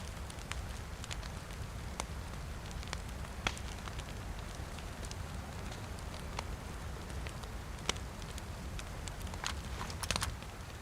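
Steady rain falls in the survival video game Livonia, a dense, constant patter with occasional sharper drips and crackles over the top, heard alone and without voices.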